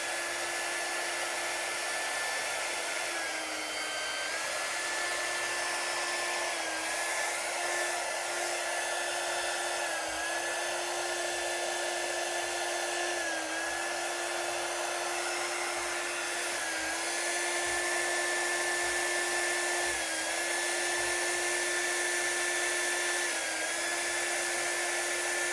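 A hair dryer blows hot air steadily to dry chalk ink on a custom shirt, giving a continuous loud whir with a high whine that dips slightly every few seconds as it is moved; no one speaks.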